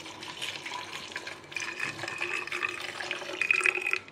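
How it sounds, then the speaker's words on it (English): Water pours from a tap into a bottle holding squeezed lemon juice for a homemade weight-loss drink, a steady close splashing and trickling lasting throughout, with no talking. "Now let's add some water in the bottle."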